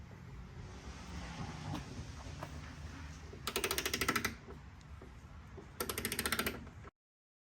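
A 10 mm socket wrench ratchets in two bursts while loosening the hood strut bolts on an EVO X, fast clicking near and fairly loud over faint background rustle, then silence.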